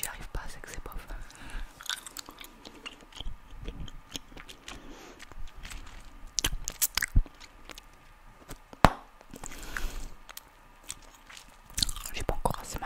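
Wet, smacking chewing of gum continues close to the microphone, with irregular clicks and soft mouth noises throughout.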